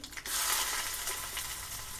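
Onions fry in hot oil for a tadka for mosaru sambar, a soft start that swells into a steady, even sizzle. No talking.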